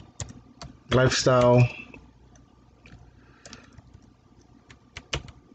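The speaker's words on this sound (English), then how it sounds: "Let's just type in" Typing on a computer keyboard: sparse, light clicks scattered across the moment, with a short burst of spoken words partway through.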